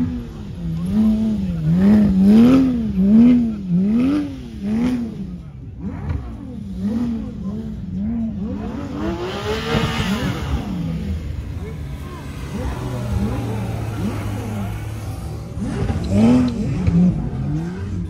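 A Ferrari 812 GTS revving hard during a donut contest at a car event, its engine rising and falling in rapid repeated surges with tire squeal, loud and close, while people talk in the background.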